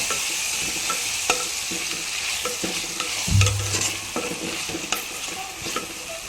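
A pan of cucumber and potato curry is stirred, giving steady scraping and clinking over a soft background sizzle, close and moderately quiet, with one brief heavier knock midway.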